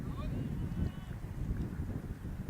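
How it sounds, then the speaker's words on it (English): Wind at an outdoor cricket match, a constant low rumbling buffet and roar against the microphone that covers the whole stretch with no clear gusts, steady and moderately loud, with no other distinct sounds standing out. "I don't know if you can tell, but it's windy here"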